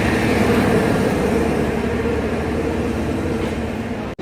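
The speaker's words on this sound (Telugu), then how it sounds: "మన ట్రైన్ అయితే ఇప్పుడే ప్లాట్ఫామ్ మీదకి అయితే వస్తుంది" The Rajdhani Express (12426, Jammu Tawi to New Delhi) pulls in along the station platform, a steady, close, heavy rolling rumble of wheels and carriages that holds for several seconds and then cuts off abruptly.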